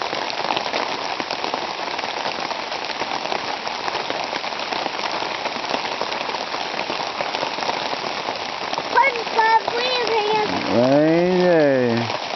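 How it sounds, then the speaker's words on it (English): Steady rain falls at a primitive mountain campsite in the Virginia Highlands, making a dense continuous patter on surfaces, with a few voice-like sounds rising over it near the end. "Just a rainy day here. Rainy day here at the camp."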